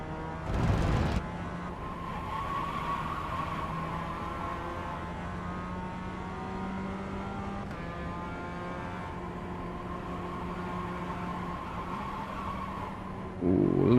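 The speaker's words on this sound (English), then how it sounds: "a little bit too high on the revs there." A steady race car engine drone in iRacing holds a high, sustained pitch with layered harmonics at high revs, with a brief louder burst at start and end.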